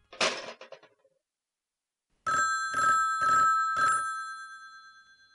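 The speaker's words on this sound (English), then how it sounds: "How do you like the fancy ring?" An old Long Island landline telephone bell rings in a fancy pattern of four quick, loud, evenly spaced bursts, the last tone lingering, after a brief rattling clatter and silence.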